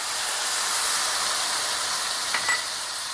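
White wine poured into a hot pan of browned sausage for fettuccine with porcini, giving a steady loud hiss and sizzle throughout, with a faint clink of a utensil near the end.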